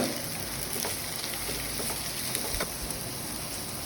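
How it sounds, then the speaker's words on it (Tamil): Cabbage fries in a pan for vegetable hakka noodles, a steady, close sizzle with faint crackles and occasional soft stirring scrapes, with no talking. "ஸோ முட்டைக்கோஸ் மட்டும் போட்டு ஒரு 2 மினிட்ஸ் வச்சு எடுத்துக்கோங்க."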